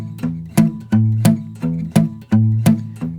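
Acoustic-toned guitar picked with a plastic thumb pick, a steady alternating bass pattern of crisp, bright attacks at roughly even intervals, close and clear with no voices.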